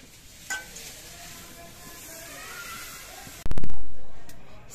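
Chitoi pitha frying in a covered clay pan, a faint steady sizzle for a few seconds, then a loud close clatter as the lid is handled, followed by a sharp rushing burst of sizzle.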